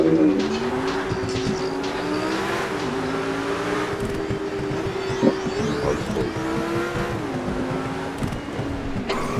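A car engine at full throttle drones loudly and continuously close by, its pitch rising and dipping as it revs, with no break in the sound.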